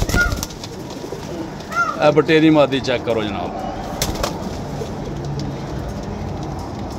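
Pigeons for sale in Jhelum coo in low, rolling bursts, loudest in the middle, while someone talks over them close by.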